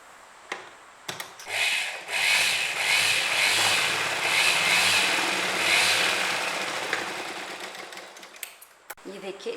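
A sewing machine stitches kurti panels in a fast, steady whirring run lasting several seconds, starting and stopping with a few clicks at either end; the machine is close and fairly loud.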